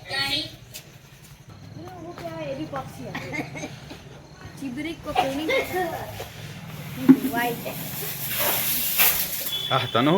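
Spices hit hot oil for tempering and give a rising, hissing sizzle that swells toward the end, partly under conversation and chuckles.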